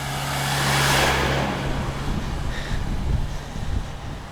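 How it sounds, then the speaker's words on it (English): A car approaches on a mountain road in the Grindelwald valley, Switzerland, its low rumble swelling and passing nearby, mixed with heavy wind buffeting the microphone. "There's a car coming, but this is someone who lives here."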